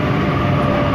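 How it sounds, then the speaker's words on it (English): A Sydney train pulls into a station platform, a loud continuous rumbling roar of the carriages close by, steady throughout the brief moment. "Leppington service arriving into platform number 2."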